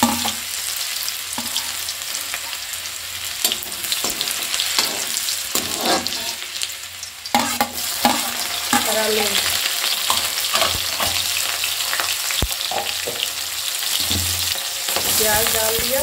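Ginger sizzling in hot oil with cumin and garlic in a pan for potato dosa masala, a steady crackling fry with occasional stirring scrapes throughout, close and fairly loud, no talking.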